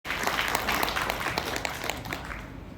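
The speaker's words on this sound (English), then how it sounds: "let's give her a big round of applause." A conference audience at a Rotary Club district gathering in Indonesia bursts into applause for a speaker, with a sharp onset and then dense, sustained clapping that thins slightly toward the end.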